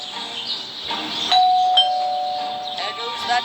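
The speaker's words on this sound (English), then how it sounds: "so let's ring this doorbell." A doorbell chimes inside the Scary Teacher 3D video game, a clear ringing tone that sustains and then repeats once more, with faint game ambience behind it.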